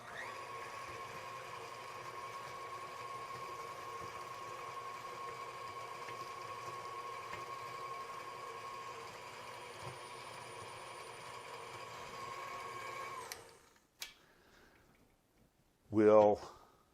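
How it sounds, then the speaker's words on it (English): Batter being stirred after one egg goes in, likely with an electric mixer, a steady motorized whirring hum running continuously for about thirteen seconds before cutting off, followed by a brief clatter. "give it about another 30 seconds of stirring"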